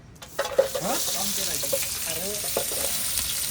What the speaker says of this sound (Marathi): कांदा एकदम मस्त पैकी टाकलेला आहे टोपामध्ये